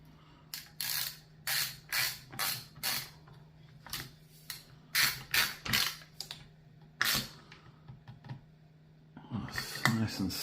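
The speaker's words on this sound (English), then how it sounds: "Just get a little ratchet on this end." Short bursts of a hand ratchet clicking in quick series while tightening walnut tiger-stripe AK furniture on a Zastava ZPAP M70 rifle, close up, with a steady low hum beneath and a louder rustle at the end.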